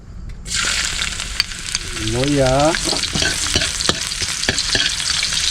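Sliced ginger sizzling and frying in a hot pan, a loud steady hiss with scraping stirs throughout and a brief squeaky tonal sound in the middle.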